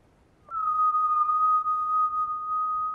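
A single whistle blows one long, steady, high note that starts abruptly and holds clear and fairly loud for a few seconds.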